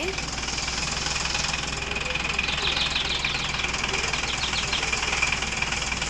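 A vehicle engine runs steadily with a rough, knocking rumble while the vehicle is stuck, continuous and close throughout, with voices talking faintly over it.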